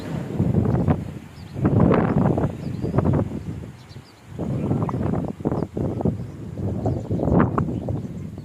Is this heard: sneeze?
no